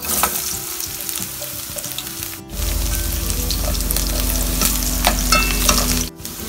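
Pork pieces browning in a pan for kaldereta, with a loud, dense sizzle of frying meat that continues throughout, briefly dipping twice as the pieces are stirred, close up and with no talking.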